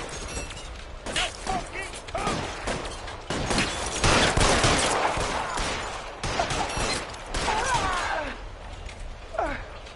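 A gunfight in L.A. Noire, with dense bursts of gunshots and rapid fire crackling throughout, loud and close with sharp impacts and debris crashes, while voices call out over the shooting.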